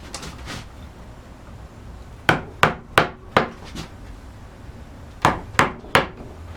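Mallet strikes on a wood carving gouge cutting incised lines in a carved lunette: a run of five sharp, evenly paced wooden taps, a pause, then three more, close and crisp.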